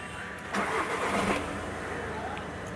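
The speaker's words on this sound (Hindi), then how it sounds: "मैं गाड़ी को आपको स्टार्ट करके भी एक बार दिखाता हूँ" A VW Jetta with a fault that kept its cooling fans running after an ECM replacement cranks and fires up, the engine catching with a loud burst and then settling into a steady idle nearby.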